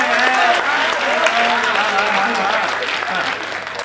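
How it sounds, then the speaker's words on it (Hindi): An audience applauds at a Hindi comic poetry gathering: loud, dense clapping that fades slightly toward the end, with a voice speaking over it. "तालियां बजनी चाहिए इस बात"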